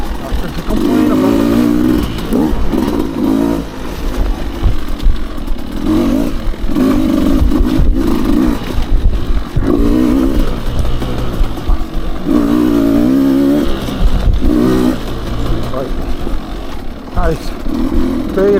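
A 2023 Beta 200 RR dirt bike rides along a trail, its two-stroke engine revving up and down continuously and loudly over rough ground, with clattering throughout.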